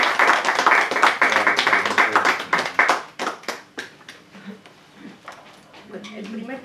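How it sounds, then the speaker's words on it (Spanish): Audience applause at a poetry presentation for Palestine, a dense burst of many clapping hands that thins into scattered claps and fades, with voices murmuring underneath. "vamos a dar un aplauso a todos"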